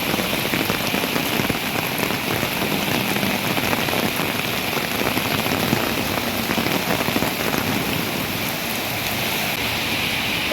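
Hail falls in Fang, a steady dense patter striking surfaces without a break, a broad even hiss with no talking over it.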